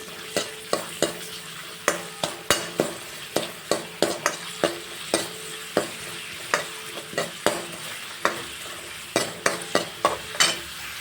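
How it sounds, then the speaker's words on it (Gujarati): Salted onions frying toward golden brown for Rajasthani panchratna dal, a steady sizzle punctuated by frequent, rhythmic sharp knocks of a spoon stirring against the pot, close up with no speech. "હવે ડુંગળીને આપણે ગોલ્ડન બ્રાઉન સુધી હું કૂક કરી લઈશ"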